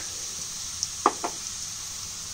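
Chopped onion frying gently in a pan on low gas for a prawn paratha filling, a quiet steady sizzle with two brief stirring scrapes, no one talking.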